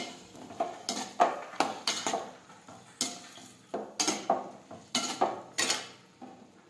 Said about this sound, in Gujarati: સમારેલા ટમેટા નાખી દઈશું. હવે આપણે સાતળી લઈશું.